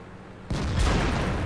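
Super Pershing tank cannon firing in a World of Tanks–style video game: a sudden loud blast at mid-clip with a sustained rumbling boom and crackling tail, no voices.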